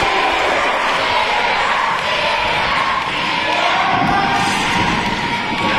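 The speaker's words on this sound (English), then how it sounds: "But listen to that crowd here in Martinez. They're just on fire." A wrestling crowd in Martinez at a bullrope match cheers and roars loudly and continuously, a dense wall of shouting voices throughout.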